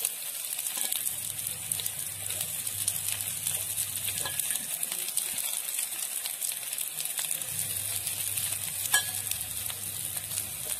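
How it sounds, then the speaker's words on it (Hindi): Mashed boiled potatoes go into a hot pan for restaurant-style frankie filling, with a steady soft sizzle and scraping stir running throughout at moderate level. "ये मैश करके हम डाल रहे हैं आलू।"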